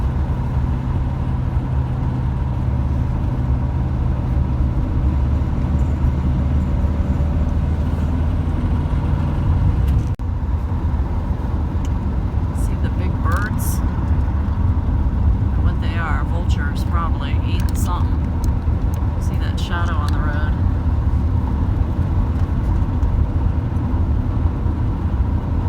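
A Volkswagen bus engine drones steadily while the bus drives along a mountain road. The low, continuous rumble runs throughout, with a faint break near the middle and some light higher noises later on.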